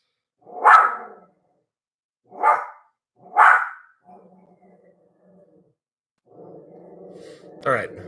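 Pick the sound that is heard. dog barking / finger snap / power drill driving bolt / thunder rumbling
dog barking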